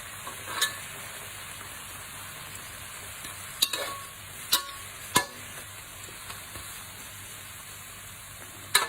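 Blanched instant noodles are stir-fried in a pan, with a steady background sizzle and a few sharp scraping clacks of the utensil against the pan at irregular moments, close and fairly quiet, with no talk.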